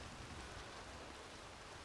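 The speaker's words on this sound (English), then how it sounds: "And now it is raining." Steady rainfall in the Red Dead Online video game, a continuous broadband hiss of rain spread evenly across the short stretch, no voices present.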